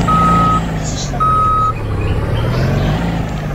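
A truck in the Roblox video game gives loud reversing beeps, two long steady electronic tones in a row over a low engine drone, heard close with no talking.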